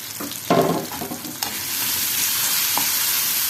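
Chopped tomatoes go into a pan with garlic, hitting with a sharp burst and stirring clatter before settling into a steady, close hissing sizzle, with no voices.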